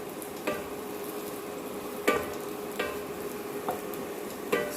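Dry prawns frying in a little oil in a pan, a steady close sizzle broken by a handful of sharp spatula taps and scrapes at irregular intervals.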